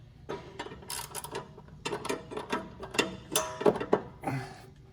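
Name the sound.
3/8 ratchet with 6-inch extension being turned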